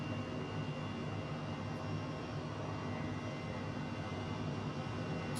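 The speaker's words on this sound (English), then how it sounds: "There's planes flying around." Airplanes fly around in Microsoft Flight Simulator with a steady, even engine drone and a helicopter mod in use. The roar holds at a constant level, with no talk and no breaks.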